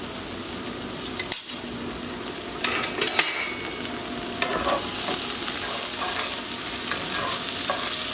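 Butter and charred corn sizzle steadily in a hot pan while a utensil stirs and scrapes, with a few sharper clinks near the start and middle over a continuous close frying hiss.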